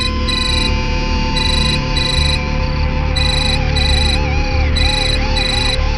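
A mobile phone ringtone trills loudly in repeated electronic bursts over a steady tonal backdrop, with no talking.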